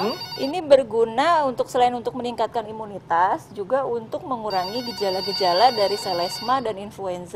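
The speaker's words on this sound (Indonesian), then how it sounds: "sebelum lanjut ini suara telepon sepertinya masuk" A telephone ring sounds during a televised health talk show, a steady electronic tone running under continuous studio conversation.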